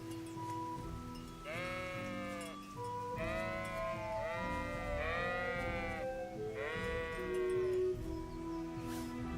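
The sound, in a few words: sheep bleating in Kingdom Come: Deliverance video game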